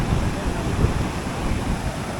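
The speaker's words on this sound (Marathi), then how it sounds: "बरंच पाणी आहे बघा मित्रांनो नदीला" Floodwater of a river rushing below an overflowing dam makes a loud, continuous roar with wind buffeting the microphone, heard up close and steady throughout.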